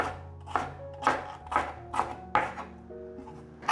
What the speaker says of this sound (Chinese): 把西洋芹切条